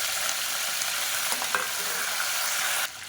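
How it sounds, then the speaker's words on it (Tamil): Steady, bright sizzle of spices frying in hot oil for biryani with occasional stirring clicks, close and continuous, easing slightly at the very end. "இப்போ இது எல்லாமே நல்லா பொரிய ஆரம்பிக்குது"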